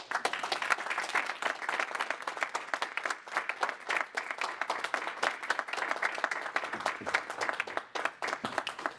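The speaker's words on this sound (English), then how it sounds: "Could you please give him a warm round of applause?" Steady, dense applause from an audience welcoming Minister Abdullah Tahama to the stage, loud and sustained with many overlapping hand claps throughout.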